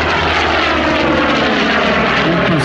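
A warbird propeller plane flies an airshow display, its engine a loud, steady, broad roar that holds throughout, close and unbroken, with no voices.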